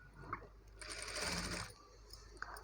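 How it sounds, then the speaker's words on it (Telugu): A sewing machine stitches a new-model blouse in a steady mechanical whir, with a quicker, louder burst in the middle and quiet handling noises before and after, no talking. "నేను ఇక్కడ నుండి స్టిచ్ ఎలా వేసుకుంటూ వస్తున్నాను చూపిస్తాను"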